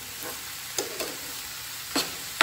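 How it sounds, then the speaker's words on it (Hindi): Finely chopped tomatoes stirred into frying onions in a pan, with a constant close sizzle broken by three or four sharp scrapes of the spoon. "अब हम इसमें डालेंगे टमाटर, इसमें बारीक चॉप किया हुआ टमाटर, इसको भी करेंगे इसमें अच्छे से मिक्स।"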